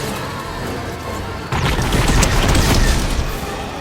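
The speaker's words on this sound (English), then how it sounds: "Plungerman's enthusiastic application of explosives is noted." Explosions from the video game Fortnite, in a Galactic Battle Zero Build match: a sudden loud blast kicks off a sustained, crackling barrage of booms and debris that continues at steady loudness without any talking.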